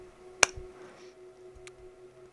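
A single recorded hand clap played back in REAPER, one sharp close snap with a short tail and a brief softer echo about a second later, over faint low hum.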